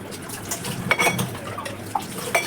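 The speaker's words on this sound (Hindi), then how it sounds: "ये मैं साथ के साथ ही बर्तन धो के मैं रख देती हूँ रैक में" Washed dishes, pots and frying pans set down one after another into a small kitchen drying rack, giving several close metallic clatters and clinks with light water sounds between them.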